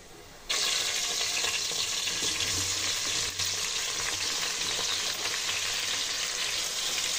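Tomatoes and onions sizzle steadily in a pan for chicken biryani, a close, continuous frying hiss starting abruptly and running unbroken with light stirring scrapes mixed in.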